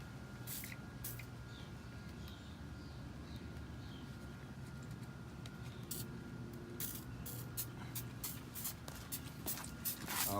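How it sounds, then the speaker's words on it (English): Quiet bursts of Bayer treatment spray hiss onto a David Austin rose from underneath, brief repeated spritzes over a soft shuffling background, close and faint. "All right, so with the Bayer, we're gonna spray from underneath."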